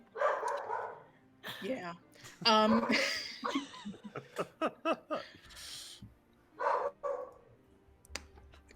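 A dog barks and yips several times nearby, in short bursts mixed in with people chatting.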